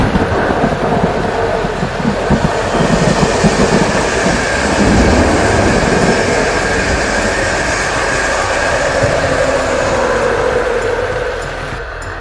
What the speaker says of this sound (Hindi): ये है रेलगाड़ी, ये म्यूजियम की तरफ जा रही है।